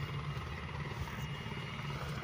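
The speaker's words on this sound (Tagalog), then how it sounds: "Ito may paalis din na helicopter mga idol" A helicopter departing an airport, heard as a steady, fairly faint rotor and engine drone with a low throbbing pulse that holds unchanged for a couple of seconds, no voices over it.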